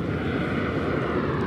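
Qantas Airbus A330 airliner departing Sydney Airport at night bound for Haneda, a steady, loud broadband engine roar that holds constant throughout, with no voices.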